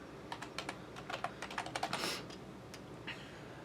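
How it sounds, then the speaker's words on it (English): Fingers type on a computer keyboard, entering a listing search: a quick, close run of light clicks and taps that bunches into a dense burst before a few last keystrokes. "And then I'll type at the end of it,"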